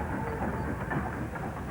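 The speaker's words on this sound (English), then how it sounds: "Steam locomotive went forward into a siding." A steam locomotive moves forward into a siding, a steady heavy low rumble and hiss of rolling stock, continuous and fairly loud throughout the short moment.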